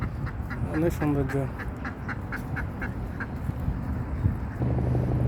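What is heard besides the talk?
ducks quacking on a park pond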